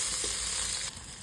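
Chopped chillies and vegetables frying in a little oil, a loud close sizzle and crackle that drops slightly near the end of the short burst.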